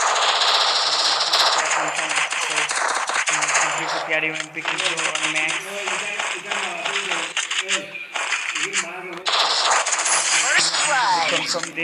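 Rapid automatic gunfire and weapon effects from the Free Fire shooter video game, dense and loud throughout with a game music bed, brief gaps, and a player talking over the action.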